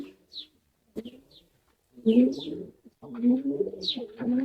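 Pigeons coo in soft, throaty bursts while one sits on eggs, several repeated calls close by, with brief high chirps from other birds in between.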